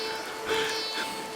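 Rain falls at night in an animated story, a soft, steady patter with faint swells, heard alone and at moderate distance.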